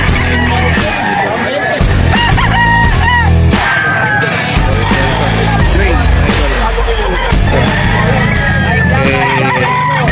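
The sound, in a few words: roosters crowing at Bocaue pet market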